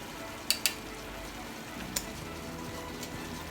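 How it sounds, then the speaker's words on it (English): Chilli con carne simmering rapidly in a pan gives a soft, steady bubbling sizzle, with a few sharp metallic clinks of a utensil against the pan near the start. "you see it's simmering quite rapidly"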